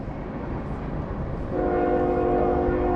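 A train rumbling past close by on a trail at Salt Lick Point near Valmeyer, Illinois, a steady low roar that swells midway as a sustained horn-like tone joins in.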